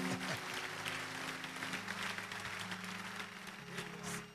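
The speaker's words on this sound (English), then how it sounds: "we need to clap for this church" Church congregation clapping during a worship service, a steady wash of applause over a sustained musical drone, with faint voices in the background throughout.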